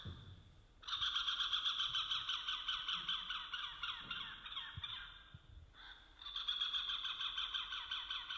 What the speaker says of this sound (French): Nous allons donc vous faire entendre le chant du coucou-jet et Roger Muraro va vous faire la démonstrati